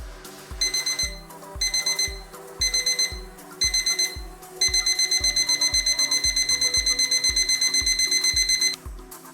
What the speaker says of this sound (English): The timer will sound if you're working in another application.